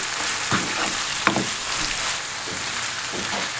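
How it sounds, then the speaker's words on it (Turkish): Steady frying sizzle from tomato sautéing in a frying pan, with a few soft stirring scrapes and a brief clink, fairly close and even in level. "Şöyle domatesiyle birlikte 2 dakikada kavuralım."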